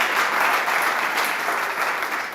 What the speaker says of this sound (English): Our studio audience tonight, yes, give yourselves a round of applause for sure